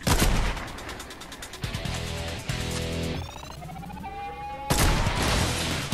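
Sniper gunfire in Fortnite, with dense loud shots and bursts near the start and again near the end, over a busy layer of game sounds and music tones.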